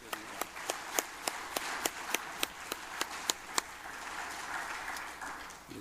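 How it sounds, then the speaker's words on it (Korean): A church congregation applauding together, with sharp claps falling in a steady, even rhythm over a broad crowd wash that thins out after about four seconds. "다시 한번 크게 우리 축복의 박수 드립니다"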